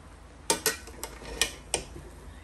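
A spoon mixes chicken biryani in a pot, giving six distinct clinks and scrapes of metal against the pot at uneven intervals, close and fairly quiet over a low background.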